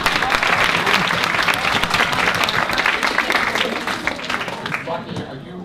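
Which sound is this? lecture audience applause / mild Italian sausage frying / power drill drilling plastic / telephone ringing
lecture audience applause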